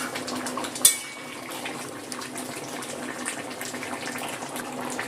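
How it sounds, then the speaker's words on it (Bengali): Boiled chicken being stirred in a metal pot, a sharp clank of a spoon against the rim near the start followed by soft, continuous wet stirring and faint clinks, fairly close, with no talking. "মাংসটা ভালো মতো সিদ্ধ হয়ে গেছে, নেড়ে দিলাম"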